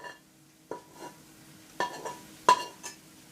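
Prawns stirred in a pan of sautéed onions for a Kerala-style prawn fry, four sharp metallic clinks and scrapes of a spoon against the pan spaced apart, each with a brief ring, close and otherwise quiet.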